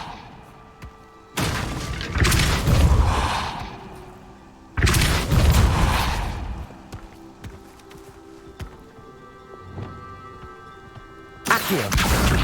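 Depulso spell bursts in Hogwarts Legacy, three loud booming blasts at intervals, each a broad rushing impact that trails off, with quieter rumbling between.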